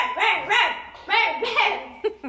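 A person voices a dog's bark in imitation, producing a quick series of about five loud, close yapping barks in pairs over two seconds, with no other talk.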